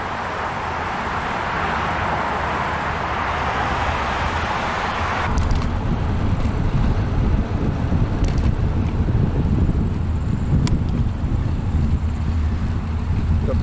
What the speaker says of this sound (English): it seems as though the wind's dying off